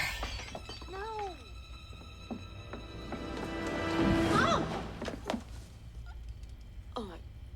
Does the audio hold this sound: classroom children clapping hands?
no